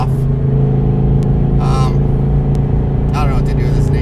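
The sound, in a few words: Ford Mustang Boss 302 accelerating with wheel slip, traction control off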